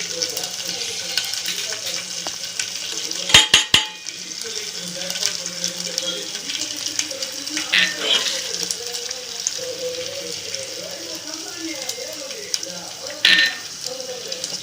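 Crushed garlic fries in a pan for a gongura chutney, giving a steady close sizzling hiss with a couple of brief clinks early on and faint background noise throughout.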